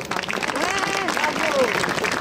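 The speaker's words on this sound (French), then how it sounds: "Vous pouvez aussi les applaudir très fort." At the 2021 Fête de la Niflette festival, an outdoor crowd applauds the bakers with a steady clatter of clapping while voices talk and call out over it.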